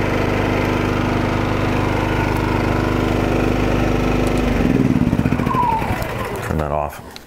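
A Champion 2500-watt dual fuel gas/propane portable inverter generator engine runs steadily up close, its loud hum holding even before shifting pitch and sputtering as it winds down near the end.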